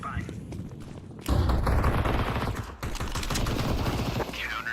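Counter-Strike gameplay with a flashbang and a burst of rapid gunfire, loud clattering shots and thuds over a busy game soundscape, while a voice talks over the action.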